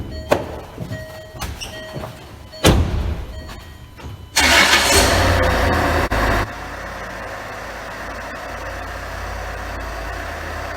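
A few sharp clicks and thunks come first, then a car engine cranks loudly for about two seconds, catches and settles into a steady, quieter idle close by.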